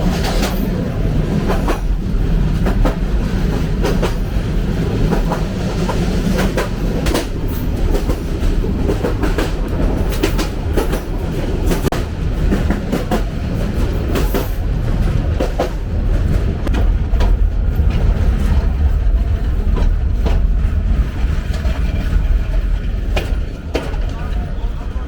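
The Egarosindhur Provati Express runs on rails between Dhaka and Kishoreganj, heard from inside as a loud, continuous rumble with rhythmic clicking and clattering of wheels over track joints, with voices faintly mixed in.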